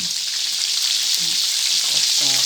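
Battered shrimp deep-frying in hot oil at home, a steady loud hiss and sizzle that stays continuous throughout, with faint clinks of stirring near the end.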